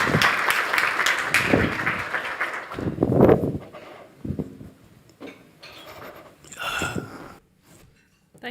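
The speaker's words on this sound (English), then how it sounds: "Let's give a round of applause." An audience at a community event claps together in a burst of applause that swells and then tapers into scattered claps, with a few voices over it.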